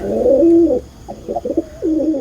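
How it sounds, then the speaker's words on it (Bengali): A pigeon coos close by in three throaty, rolling phrases separated by short gaps, loud against a quiet background. "কবুতর,"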